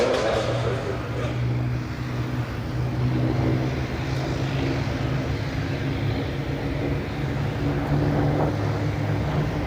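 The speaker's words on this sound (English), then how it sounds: "The Supermarine Spitfire, A.J. Mitchell's masterpiece, the acknowledged queen of the single-seat fighters of the Second World War" Supermarine Spitfire single-seat Second World War fighter flying at an air show, its propeller engine giving a steady droning hum with sustained low tones, loud and continuous throughout.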